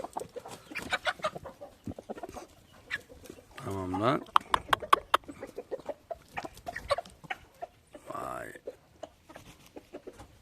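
A rooster crows twice, with clucking hens and other farm birds around, and people talking intermittently in the background.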